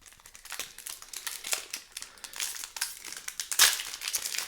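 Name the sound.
opening a Baldur's Gate draft booster pack wrapper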